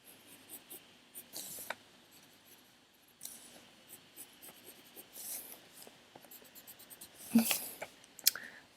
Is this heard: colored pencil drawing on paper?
yes